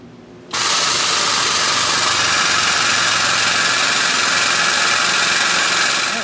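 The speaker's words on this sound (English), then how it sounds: "we're going to use a 20-ton air jack to jack it up" A 20-ton air jack lifting a truck for a brake job starts abruptly with a loud, steady pneumatic roar and hiss that holds at an even level throughout, close up, with no talking.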